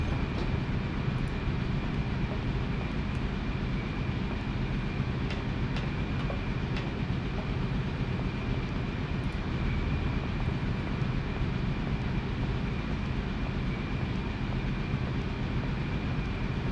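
A train departs in the Syberia video game, with a dense, steady low rumble of rolling rail wagons that stays loud and constant throughout, with faint metallic tones and a few brief clanks above it.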